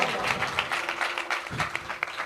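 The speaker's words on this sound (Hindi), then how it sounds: "आए यसू के लिए जोरदार तालियां बजाइए" A church congregation claps together during a sermon, a brief burst of full, rhythmic applause with no voices over it.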